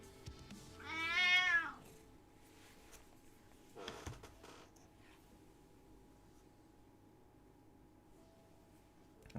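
An elderly cat gives one loud, drawn-out meow close by, followed by soft rustling and a few faint handling sounds in a quiet room.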